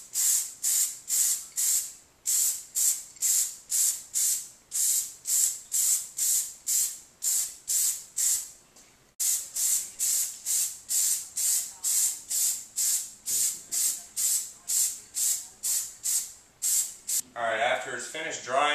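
Repeated short bursts of an aerosol can spray a second coat of Plasti Dip onto chrome car trim, each hiss lasting about half a second in a steady rhythm, loud and close, with no talking.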